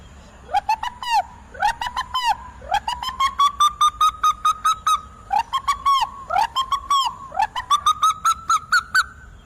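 A person imitates a pigeon's cooing call with a run of rising, warbling whistled notes in repeated bursts, fairly loud and close, with no other voices.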